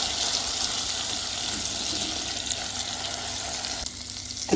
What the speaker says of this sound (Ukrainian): Кидаю 70 грам рису і обжарюємо його хвилин 2-3.